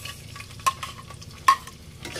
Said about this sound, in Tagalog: Pang saute lang guys, pang gisa-gisa lang. So ilagay na natin yung sibuyas.